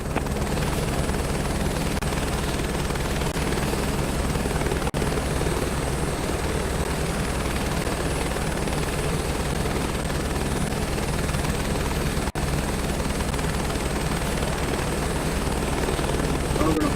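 Helicopter in flight in Microsoft Flight Simulator 2024, a loud, constant rotor and turbine drone with steady low thumping, unbroken for the whole stretch.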